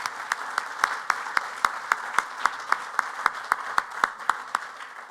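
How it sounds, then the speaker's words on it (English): A conference audience claps for a panel, with steady, evenly spaced claps that sound like a small, sparse group rather than a full crowd, moderately loud and without any talk. "So please would you give the panel a very large round of applause."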